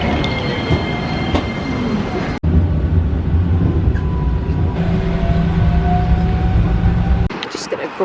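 Tram riding through Tallinn, Estonia, with a loud steady rumble of wheels on rails, rattling and faint squeals throughout, heard from inside the car with speech mixed in.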